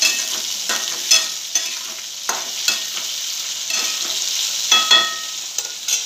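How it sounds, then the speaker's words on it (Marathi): Okra tipped into a hot pan with garlic, a bright steady sizzle punctuated by repeated scraping stirs of a spatula, close and loud, without any voice. "आता मैत्रिणींनो आपल्याला घालायची भेंडी ह्याच्यामध्ये, भेंडी घालायची मैत्रिणींनो।"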